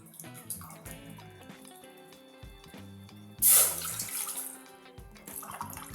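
Water pours from a tap into a vessel for rasmalai sugar syrup, a loud gushing burst in the middle over quiet background music, then a softer trickle.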